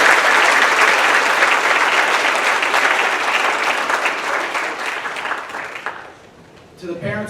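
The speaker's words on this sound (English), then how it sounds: "So please, give them a big round of applause." A school audience at a high school senior athletic awards ceremony gives coaches a big round of applause, dense sustained clapping that fades out over several seconds before a voice resumes.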